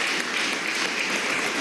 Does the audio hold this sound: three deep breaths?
no